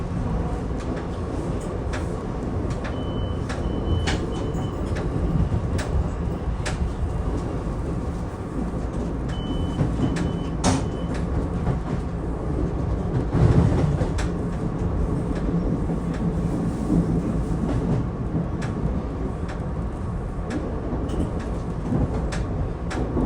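SEPTA Silverliner 5 electric train running fast from Trenton toward Philadelphia 30th Street, heard from the cab: a steady loud rumble and roar of motion with occasional sharp clicks and a brief louder swell midway.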